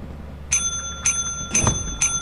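The service bell at the company counter in the video game Lethal Company, struck four times at an even pace, each a bright, close metallic ding over a low background hum.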